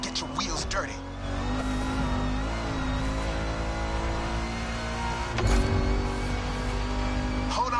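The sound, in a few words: Ford Mustang driving through a swamp in the video game MotorFest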